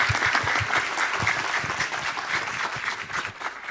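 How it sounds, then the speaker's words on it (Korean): A lecture audience applauds as a POSTECH professor is welcomed to the stage for a talk on the 2016 Nobel Prize in Chemistry: thick, continuous clapping from a large crowd, even and sustained throughout. "여러분 큰 박수 부탁드립니다."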